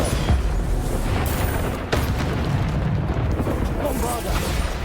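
Bombarda blasting spells explode in Hogwarts Legacy, loud booming blasts bursting one after another over a rumbling game soundscape, with a sharp crack near the middle.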